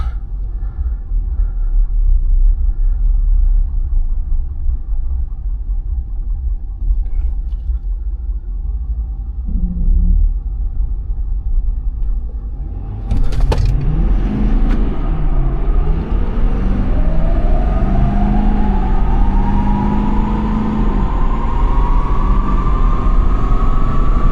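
A drag race car idles with a deep, close rumble while staging, then launches hard off the line, its engine note climbing steadily as it accelerates away.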